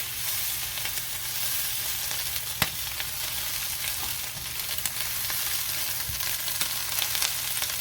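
Corned beef hash fries in a pan with a constant loud, close sizzle, and occasional scrapes and taps come as it is moved around.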